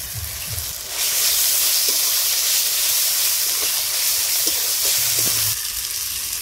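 Chopped tomatoes and garlic paste hit hot oil in a pan for a fish curry, bursting into a loud, steady sizzle and hiss that holds for several seconds before easing.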